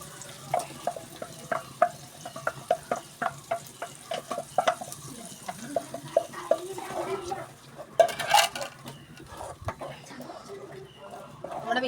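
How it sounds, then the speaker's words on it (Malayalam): Ground coconut and chili paste sautés in a pan for a sardine and mango curry, with repeated stirring scrapes and soft sizzling, fairly close and quiet, and a brief clatter of cookware near the end. "ഒന്ന് നല്ലോണം വഴറ്റിയതിന് ശേഷം നമുക്കിനി ഈ അരപ്പ്, തേങ്ങയും മുളകും കൂടി അരച്ച് വെച്ചേക്കുന്ന അരപ്പ് നമുക്കിതിനകത്ത് ഇട്ട് കൊടുക്കാം."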